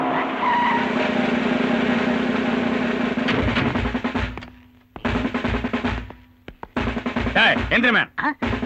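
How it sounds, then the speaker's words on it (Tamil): A big vehicle approaching with its tires skidding and squealing and the engine roaring, loud and close, cutting out briefly and returning in bursts, with a voice heard at times. "ஏய், பெரிய வண்டியா வருது"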